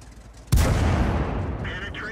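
A World of Tanks tank cannon fires once with a sharp, heavy boom that rolls off into a long decaying rumble, followed by faint mechanical reload tones.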